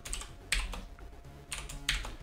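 Typing on a computer keyboard while coding a Commodore 64 6502 maze game, with bursts of rapid key clacks separated by short pauses, close and fairly quiet.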